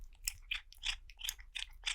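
A cat biting and chewing on a microphone, close and moderately loud, with about six short crunchy chomps in an irregular rhythm and no voices.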